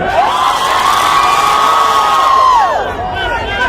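A large arena audience at a Salman Khan show in Riyadh roars and cheers, with high sustained shouts and whoops rising over the dense crowd noise, loud and close throughout before easing slightly near the end.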